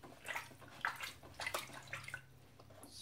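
Photographic paper for iron-salt printing is rinsed under running clean water, a quiet, continuous splashing and trickling from a tap with soft irregular bursts of spatter, close by and alone.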